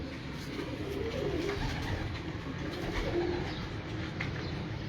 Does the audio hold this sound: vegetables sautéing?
no